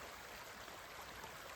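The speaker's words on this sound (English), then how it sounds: "And the creek running fast, but it hasn't ponded by the culvert." A creek running fast and full after days of rain, a steady broadband rush of flowing water heard alone and fairly faint, with no voices over it.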